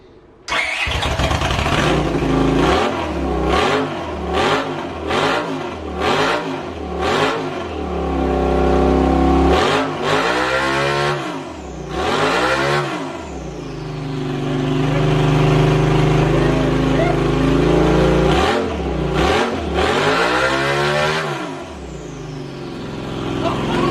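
Turbocharged CX500-engined minirod go-kart cranks and fires up, then revs in a series of loud rising and falling throttle blips, close by, with brief talk between.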